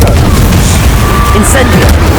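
A Confringo blasting spell explodes in the Hogwarts Legacy dueling arena as one loud, dense, sustained burst of booming noise that fills the whole stretch, with brief bright crackles near its middle.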